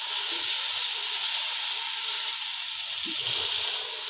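Vegetables and rice frying together in a pot for vegetable pulao, with tomatoes and green chillies, giving a steady, loud hiss and sizzle throughout, with faint low thumps of stirring and no speech.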